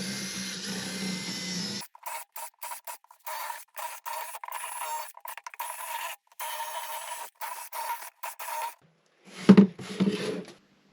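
Power drill with a swapped bit boring a cluster of holes beneath an installed stone sink, working back and forth: a series of short, close, gritty bursts separated by brief pauses, then a louder knocking scrape near the end.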